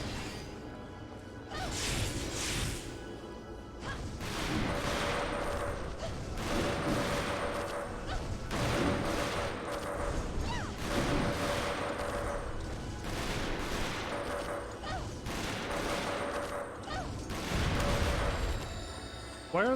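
Repeated explosions in the fantasy game Folklore, a series of heavy crashing bursts with whooshing tails spread across the scene, coming every couple of seconds under a busy backdrop.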